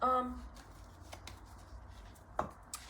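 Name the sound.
playing cards being shuffled and dropped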